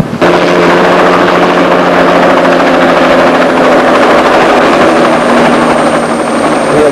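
A helicopter flies overhead after Cyclone Bola near Wairoa, its loud, steady rotor and engine roar holding close and constant from start to end with no talking.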